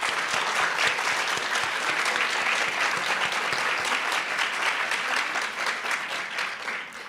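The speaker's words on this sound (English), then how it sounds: "Let's give them a round of applause." An audience applauds after a regional 3MT research presentation competition, a dense, steady clatter of many hands clapping that stays loud and even for several seconds before tapering slightly at the end.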